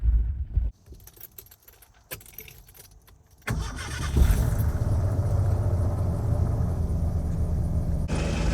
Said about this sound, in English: let's go ahead and get it cranked back up